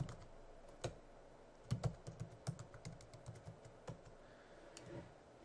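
Sharp, irregular clicks of keys being typed on a computer keyboard while entering a password to sign in, close and fairly quiet with short bursts and pauses, no voices.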